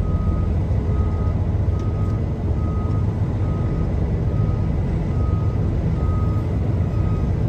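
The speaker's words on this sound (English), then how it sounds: "Look look what I gotta do to be able to back up into this uh, driveway." A truck backs into a driveway, its backup alarm beeping in a steady, evenly spaced series over a loud, continuous engine rumble.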